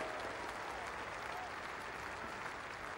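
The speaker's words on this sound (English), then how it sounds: "Another cheer goes up as Patterson gathers more runs" Spectators at a County Championship cricket match between Middlesex and Yorkshire applaud and cheer at a distance, a steady wash of clapping that holds for the whole stretch.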